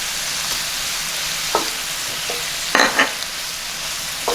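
About a tablespoon of flour cooks in a pan for a sous vide tri-tip sauce, a soft steady sizzle close by. A few brief scraping stirs rise above the hiss.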